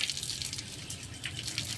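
Water flowing steadily from the Biquinha de Anchieta spring fountain in a popular public square, a soft continuous trickle and splash heard nearby and fairly quiet, with no talking.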